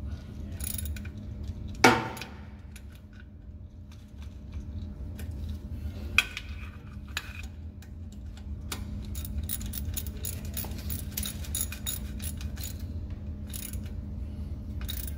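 A hand pump drives motor oil into half-gallon containers, giving repeated metallic clicks and ratcheting mechanical ticks over a low steady hum, with a couple of sharper knocks.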